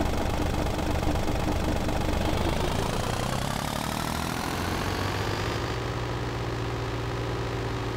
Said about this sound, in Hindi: ये है बिल्कुल असली ट्रैक्टर वाली आवाज़